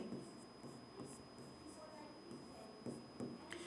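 Handwriting on a board during a Hindi letter-writing lesson, heard as quiet, short scratching strokes in uneven bursts against a soft room background.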